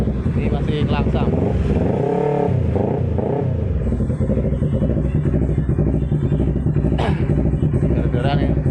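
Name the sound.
Yamaha R25 motorcycle engine started and idling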